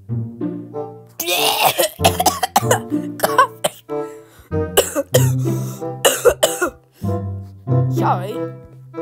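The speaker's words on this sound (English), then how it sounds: "we all know why we have coughing issues" Close, repeated coughing fits from animated characters, some harsh and throaty with throat clearing, broken up by bits of voiced talk between the bursts.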